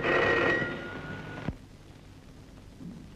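A telephone bell rings loudly for about a second and a half in a Telugu film scene, then cuts off to near silence with faint room sound.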